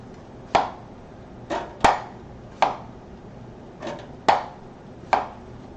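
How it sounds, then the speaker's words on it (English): A knife chopping plantains into one-inch sections on a cutting board for tostones: six crisp, sharp chops spaced about a second apart, close and clear against a quiet background. "I'm going to take these, cut it about 1-inch sections."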